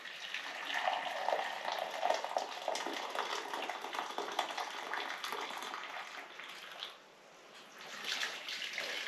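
Water is poured from a jug into a bowl already holding sugar, a continuous close splashing gurgle that briefly stops and then resumes.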